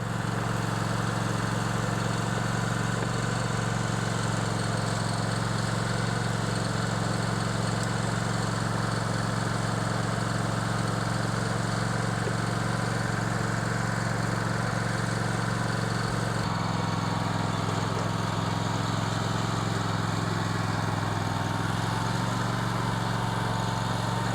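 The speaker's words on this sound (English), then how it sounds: "So glad that lawnmower's going again." A lawn mower engine drones steadily and loudly throughout, a constant mechanical hum with a slight shift in tone partway through.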